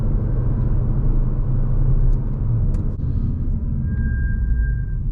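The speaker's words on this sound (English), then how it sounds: "We got the nice squeaky brakes" A 2024 Audi RS3 lets out a thin, high brake squeal that rises near the end of the stretch, sustained for about a second over a loud, steady low road and engine rumble during a night drive.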